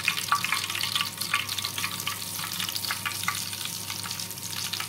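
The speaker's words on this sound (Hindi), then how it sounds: "ऑयल बहुत गर्म हो चुका है और इसके अंदर हम डालेंगे कश्मीरी लाल मिर्च।" Kashmiri red chili crackles in very hot oil with the flame just switched off, a close, busy sizzle of dense popping and spitting that stays steady for several seconds with no voices.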